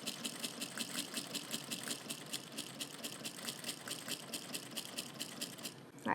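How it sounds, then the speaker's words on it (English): A sewing machine stitches a label into a seam, running with a fast, even rhythmic clatter at close range for several seconds before stopping. "we will be stitching over the label again, really right over the previous stitch line"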